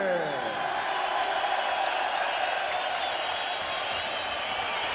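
A crowd at UFC 38 applauds and cheers for James Zikic, the Brit from Watford, in a steady wash of clapping under a loud amplified announcer's voice.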